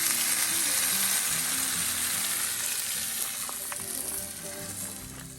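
Steak and mixed vegetables sizzle on a cast iron grill set atop a Camp Chef stove at a teardrop camper kitchen, a dense, steady crackling hiss that fades slightly toward the end, with no voices.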